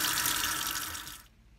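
Tap water runs steadily as etching cream is rinsed off a glass bottle, a close, loud splashing stream that cuts off abruptly near the end.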